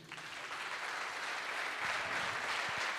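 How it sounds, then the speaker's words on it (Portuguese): A church congregation applauds in a steady, dense wash of clapping that holds evenly for about three seconds, with a few louder claps standing out near the end. "Você pode aplaudir."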